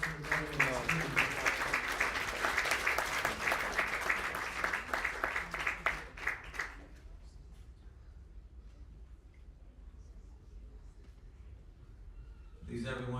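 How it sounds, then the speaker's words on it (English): A poetry slam audience at an Islamic event claps and cheers for a poet, lively applause with a voice over it that stops abruptly partway through, leaving quiet room tone before a brief noise returns at the end. "Please give a huge round of applause for the brother."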